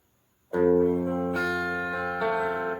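After a brief silence, a guitar plays the opening of a riff, with picked notes across the strings ringing out clearly, then a second attack and sustained tones, with no voices.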